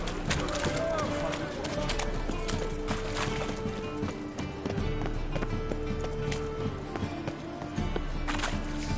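A horse gallops in a PS4 game with steady, rapid clip-clop hoofbeats close up, and a voice talks over them throughout.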